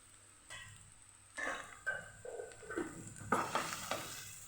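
Mashed potato is added to garlic frying in a pan for ulta vada pav, bringing soft sizzling and a series of stirring, scraping knocks that build after a quiet start; no speech.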